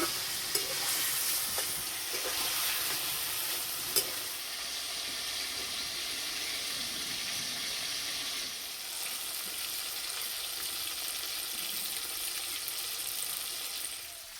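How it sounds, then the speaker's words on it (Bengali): Chicken pieces sizzle steadily in a hot pan over a high flame, a continuous bright frying hiss with occasional stirring clicks, close and alone without talk. "আর এই যে মাংসটা ভাজা হচ্ছে"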